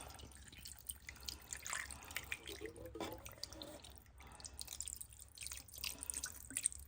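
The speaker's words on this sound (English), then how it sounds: "Okay, pour that in there. It's just a regular chicken broth." Low-sodium chicken broth being poured into a crockpot for country-style pork ribs, a soft steady trickle and splash with scattered drips, faint and close, without any talk.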